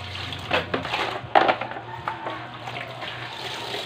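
Clothes being hand-washed in a basin of water, with irregular sloshing and splashing bursts, a louder slosh near the middle, over a steady low hum.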